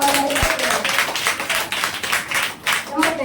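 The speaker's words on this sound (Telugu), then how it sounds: "దేవుడికి మరి చప్పట్లు కొడుతూ" A church congregation clapping during Sunday worship, a dense rhythmic patter of many hands close by, with a voice speaking over it.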